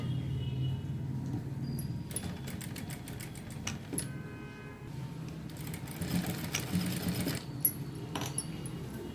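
A sewing machine stitches a blouse in short bursts of rapid, rattling needle strokes separated by brief pauses and a low motor hum. The sound is close but fairly quiet, with no talk.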